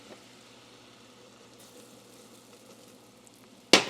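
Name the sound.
flour added to sizzling melted butter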